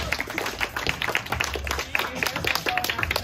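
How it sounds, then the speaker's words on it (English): A small audience at a leg-making party gives a brief round of close, dense clapping, with scattered voices mixed in. "Round of applause for Rebecca."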